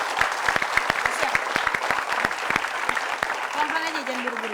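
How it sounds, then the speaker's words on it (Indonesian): A TV studio audience claps in a lively, fairly close burst with distinct individual claps, while a host's voice rises over the applause near the end. "Sekali lagi kita tepuk tangan untuk Ibu Nani"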